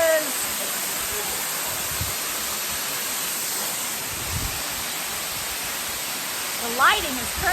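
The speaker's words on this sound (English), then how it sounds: "We made it behind the waterfall." Waterfall heard from behind the falling water on a hike at Lula Lake Land Trust near Chattanooga, Tennessee: a constant loud hiss and roar with a brief voice near the end.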